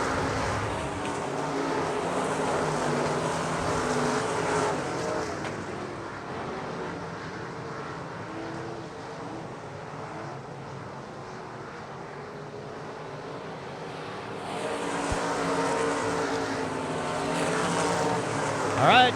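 Non-wing sprint cars race on a dirt track at South Texas Race Ranch, a continuous engine roar that swells near the start and again toward the end as cars pass, with an announcer talking over it throughout.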